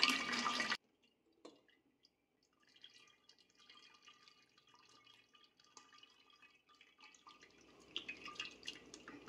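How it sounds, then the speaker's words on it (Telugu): Wood apple juice is strained through a strainer into a vessel, heard as a faint trickle and scattered drips after a short loud burst at the start. "ఈ విధంగా వడపుట్ట పెట్టుకొని మనం వడగట్టుకుందాం."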